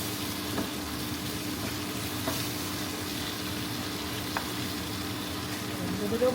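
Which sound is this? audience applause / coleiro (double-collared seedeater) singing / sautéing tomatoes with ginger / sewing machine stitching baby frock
sautéing tomatoes with ginger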